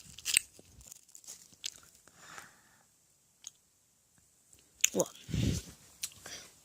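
Someone eats red bean shaved ice close to the microphone, with soft crunches and chewing in short bursts between quiet pauses and a louder wet crunch near the end, plus faint murmured speech.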